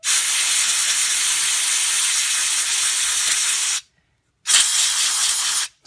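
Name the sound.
compressed air spraying circuit board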